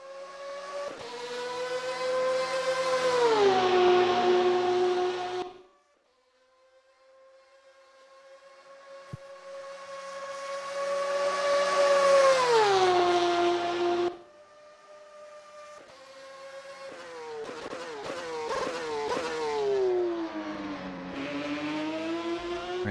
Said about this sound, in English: We're listening to the wonderful sounds of a Porsche GTE driving down the Mulsanne Straight